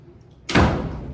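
A door swings shut with a sudden loud slam and a booming thud that rings on briefly in an indoor interview room, following a quiet stretch.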